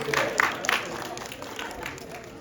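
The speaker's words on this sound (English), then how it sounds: "All of you, please give yourselves a round of applause." A live audience gives a round of applause at an academy event, scattered claps rising in a short burst at the start and thinning into a soft crowd murmur under ongoing talk.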